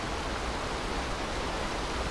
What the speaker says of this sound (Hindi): मतलब ये झरने का वॉइस काफ़ी है